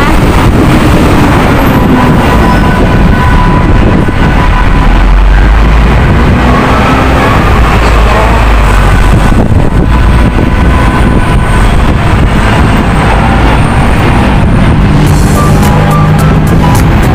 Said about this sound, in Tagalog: mahangin guys, mahangin dito